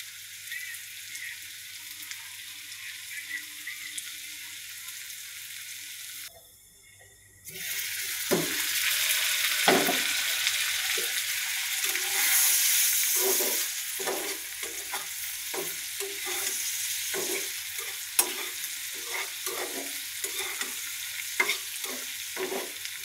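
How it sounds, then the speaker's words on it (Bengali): Dried ribbonfish frying with chillies in a pan: a low hush first, then a loud burst of sizzling oil with repeated scraping and stirring strokes continuing steadily, no talking. "একটু ভাজা ভাজা হোক"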